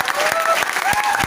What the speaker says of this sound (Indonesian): Aplaus yang meriah.